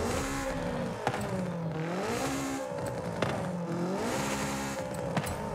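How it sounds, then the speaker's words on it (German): A 1974 Honda Civic RS racing engine revving near 10,000 rpm, its high-pitched wail rising and falling in repeated sweeps as the car accelerates and shifts, loud and close with no talking. "Typischer Hochdrehzahlmotor jetzt."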